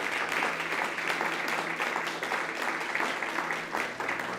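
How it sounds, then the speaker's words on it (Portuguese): A congregation applauds the Lord during a Portuguese-language church sermon, soft, distant clapping from many hands spread evenly over a few seconds over a faint low hum. "Pode aplaudir o Senhor"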